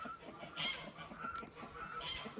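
Hens cluck softly in an unfinished backyard chicken coop, a continuous low murmur of overlapping clucks with a few brighter calls, fairly quiet and without talk.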